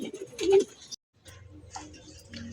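Racing pigeons arriving at the home loft after the first lap of a fun race, with a loud close coo and wing flutter at the start, then a pause and fainter rustling and soft calls.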